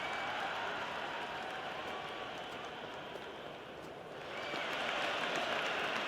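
Stadium crowd in the Cricket 26 video game applauding and roaring continuously during a one-day international between India and England, a dense steady wash of clapping that dips briefly then swells louder again.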